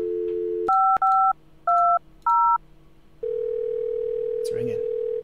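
Telephone dialing in the point-and-click adventure game Thimbleweed Park: a steady dial tone, then four distinct keypad tones in quick succession, followed by a continuous tone with a brief noisy burst near the end.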